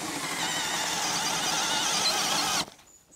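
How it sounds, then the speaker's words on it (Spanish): A fast-spinning electric drill with a large bit, set to high speed with too little torque, fails to bore a hole. It makes a loud, continuous high whine with a squeal, then cuts off abruptly near the end. "en velocidad rápida, menos torque, el taladro no es capaz de hacer el agujero"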